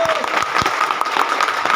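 Short burst of crowd applause at a community caste gathering (samaj sammelan), dense clapping close by with a voice calling out over it.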